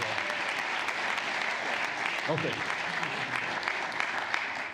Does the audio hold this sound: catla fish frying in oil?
no